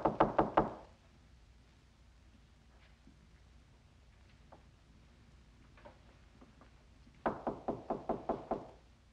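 Knocking on a door, heard as two bursts of firm, evenly spaced raps, a quick run of about four at the start and a longer run of about six near the end, with a quiet room in between.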